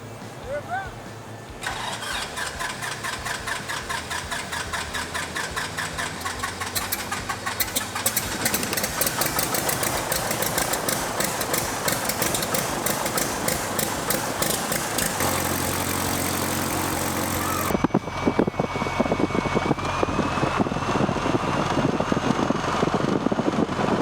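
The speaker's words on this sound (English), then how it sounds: "We are going to do a fast taxi and then stop it." The engine of a Beechcraft Sierra light aircraft runs steadily before a fast taxi, a loud, continuous droning rumble that shifts pitch partway through, with people talking over it.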